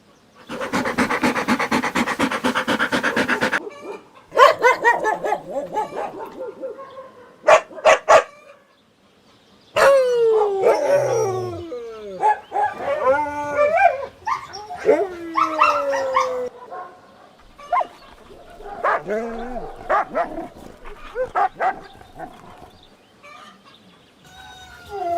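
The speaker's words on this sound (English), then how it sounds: "Dog." A dog barks in several loud, close bursts of sharp yelps and woofs, mixed with a rooster crowing and clucking chickens in a farm animal sound sequence, with brief silent gaps between calls.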